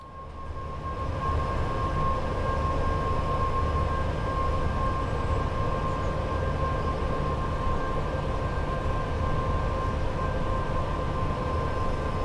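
A train in a simulator game on the West Coast Main Line between Preston and Carlisle climbs uphill, its engine drone and rolling rumble holding steady and loud throughout, with a faint high whine on top and no voices.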